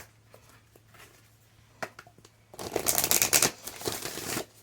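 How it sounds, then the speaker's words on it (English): Oracle cards being shuffled by hand, a few soft isolated riffles and taps, then a louder, denser burst of shuffling close to the microphone, with no one speaking. "today's cards aren't pre-pulled, so I'm going to shuffle as we go"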